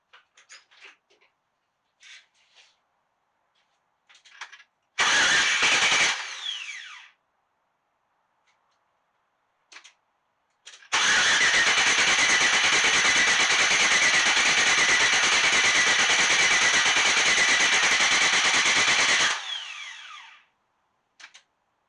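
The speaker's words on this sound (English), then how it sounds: "I'm going to go ahead and crank this thing over, see if I can get oil pressure to build up" LS-swapped Chevrolet C10 engine cranking over, with scattered clicks, then a short loud crank burst, a pause, and a long steady cranking roar of about nine seconds before it cuts off.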